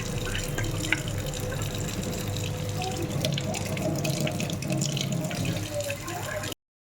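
Water runs steadily from a kitchen tap while fruit and other food are rinsed under it, a constant close splashing hiss with faint clinks and drips, no speech.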